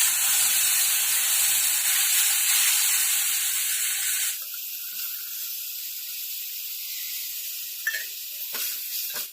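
Garlic frying in a pan in a home kitchen gives a steady, loud sizzle and hiss that drops to a quieter simmer midway through, with a couple of faint clinks near the end.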